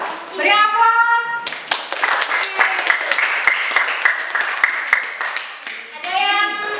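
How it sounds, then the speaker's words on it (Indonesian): Classroom applause during a teacher's practical teaching exam, with many hands clapping steadily for several seconds, framed by children's voices talking before and after. "Beri aplaus."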